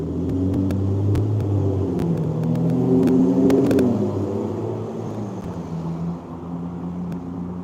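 A car engine outside rumbles and revs, a loud low throaty drone that swells and eases over several seconds, with scattered sharp clicks and crackles on top and no talk.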